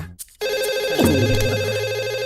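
After a brief quiet moment, a phone starts ringing with a steady, continuous electronic tone, close and fairly loud.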